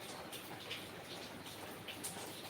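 Light rain falls steadily during a tropical storm in Amnat Charoen, Thailand, a soft continuous patter of drops with occasional slightly louder splashes, no voices.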